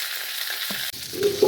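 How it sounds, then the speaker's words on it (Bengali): Fish fries in hot oil in a pan, a brief close sizzle that swells into louder spattering after a quick clatter. "মাছ ভাজা প্রায় হয়ে যাচ্ছে"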